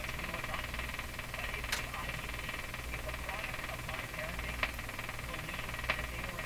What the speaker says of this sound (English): So you still hear some sparky sounds